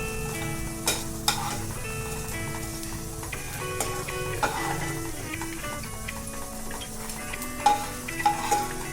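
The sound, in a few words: frying edible gum (dink) on low flame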